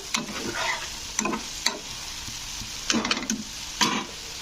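Pointed gourd is stir-fried with grated coconut and cashew paste, a low steady sizzle punctuated by several sharp spoon scrapes and clacks against the pan, close up and without speech.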